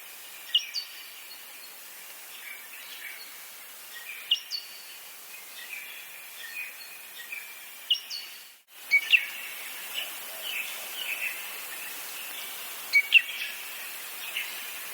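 Crescent honeyeaters calling along the Great Ocean Road in Australia: repeated sharp, bright chirps and tweets at a steady, lively pace over a soft hiss, with no voices.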